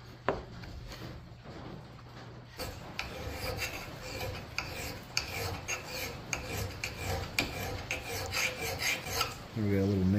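A file sharpens the bit of a Collens double bit axe in a run of repeated rasping strokes, close and fairly quiet, starting slowly and settling into a steady rhythm.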